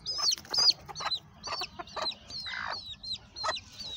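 A hen clucks in a coop with a young chick nearby, giving a close run of short, throaty clucks and squawks at an uneven rhythm, with no talk over it.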